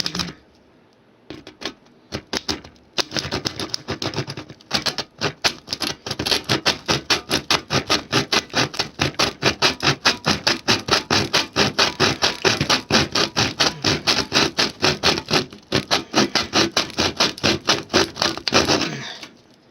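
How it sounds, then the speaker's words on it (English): A hacksaw cuts through a hard, wood-like material in fast, steady back-and-forth strokes. The rasping comes close and loud, runs continuously after a few hesitant starts, and has no talk over it. "Let's try the hacksaw, or the saw."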